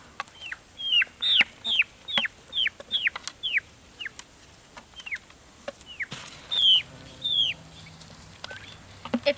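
Backyard chickens eating black soldier fly larvae give a run of sharp, repeated clucks and short calls, close and clear, coming in quick bursts over a quiet background.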